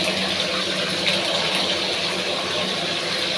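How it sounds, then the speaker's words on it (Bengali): Potatoes and cauliflower fry in a pan, producing a loud, steady, even sizzle that continues unbroken throughout with no talking. "এটা খিচুড়ির জন্য আমি আলু ফুলকপিটা ভেজে রাখছি"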